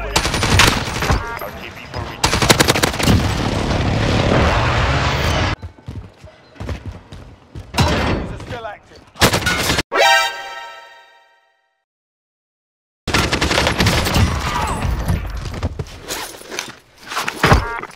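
Bursts of gunfire and action effects from a Warzone battle royale match, loud and dense in several long stretches separated by a near-silent gap, with brief voices mixed in.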